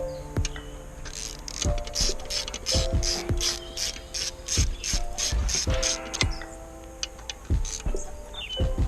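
A ratchet wrench tightens engine intake manifold bolts, its rapid pawl clicking in short bursts with pauses between them, close and fairly quiet in a workshop, with no talking.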